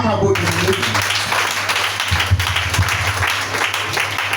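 A church congregation applauding and cheering for Jesus, giving loud, sustained clapping and crowd noise throughout, with a voice speaking briefly at the start.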